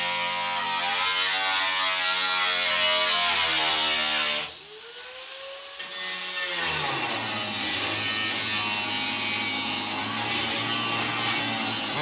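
A power tool cuts through sheet metal on an F-body sail panel, a steady high buzzing grind that drops out briefly midway, then resumes with a sweeping whine and keeps running continuously.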